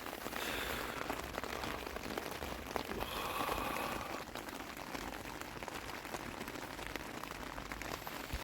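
Steady rain falling outdoors during a trip in Himachal, a dense continuous patter and hiss that fills the clip at moderate loudness, with no talking.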